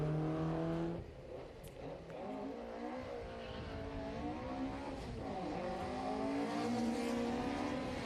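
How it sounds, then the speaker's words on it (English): An A14-powered Datsun 1200 race car accelerates hard at a grassroots historic sprint meet, its engine note climbing through gears with rising and falling revs, loud and fairly close, heard alone. "Jason O'Mara rushes down in towards turn 1 in the A14 powered Datsun 1200"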